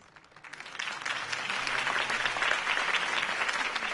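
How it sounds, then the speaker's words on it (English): A crowd applauds after Harvey Dent's mayoral campaign speech in Gotham City, clapping that swells up from quiet over the first half-second into sustained, loud applause that carries on to the end. "could have heard that applause"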